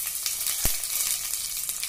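Curry leaves hit hot oil already holding popped mustard seeds and cumin during tempering, giving a continuous bright sizzle with one sharp crackle near the middle, close and fairly loud, with no speech.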